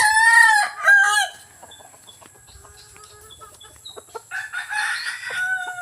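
Three young roosters (stags) in a backyard pen, one giving a loud nearby crow at the start, then softer scattered clucks and a rising bout of clucking and calling.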